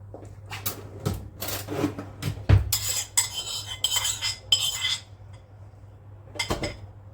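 A spoon clinks and scrapes against a small cup while stirring sugar into Turkish coffee, in several bursts of metallic chinks and rattles, close by, with short pauses between.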